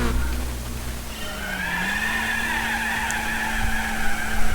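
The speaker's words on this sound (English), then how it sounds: "another braking test in the Renault Megane" Tires of a Renault Megane skid in a long, continuous squeal while braking in a Gran Turismo 4 license test, with a steady engine drone underneath.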